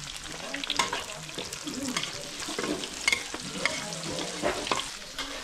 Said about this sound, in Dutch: Hier zijn ze ons ontbijtje aan het maken.